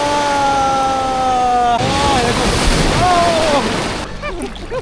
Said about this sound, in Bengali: জোয়ারের সময় তো অনেক বড় বড় ঢেউ আছে